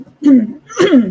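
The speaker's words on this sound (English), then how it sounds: "I'm clearing my throat." Two quick, gruff throat-clearing bursts, close and loud, one right after the other.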